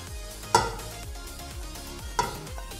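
Cabbage pakoda batter with onion being mixed by hand in a bowl, a soft wet squelching stir with two sharp clinks, close and quiet, no talk.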